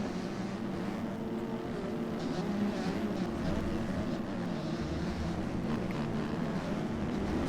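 A two-stroke motocross bike races in a C Class moto, a continuous wind-buffeted engine drone at moderate distance with no clear voices over it.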